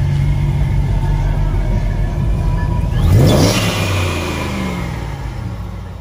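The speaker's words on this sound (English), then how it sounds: "I'll tell him to rev it so you can hear it." Ram truck fitted with a ProCharger-boosted engine revs at a truck meet, a loud steady idle rumble swelling into one sharp rev burst midway before settling back, with outdoor crowd noise around.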